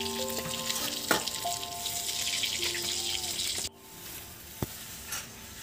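Rohu fish frying in a pan gives a steady sizzle, with a few sharp clinks of a utensil and a sudden drop in volume partway through as the frying quiets.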